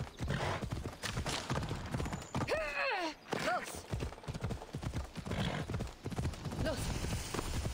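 Hooves of the horse Phobos clip-clop at a steady riding pace in Assassin's Creed Odyssey, with a couple of short whinnies near the middle, all under continuous talking.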